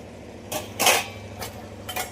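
Metal dishes and pots being handled after washing, with a few separate clinks and scrapes close by, faint and sparse, with no talking.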